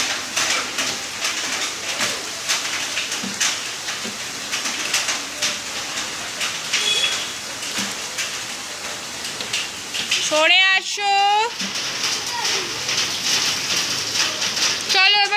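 Rain falling steadily outdoors, a close, even patter across the whole stretch, with someone speaking briefly and a voice calling out near the end.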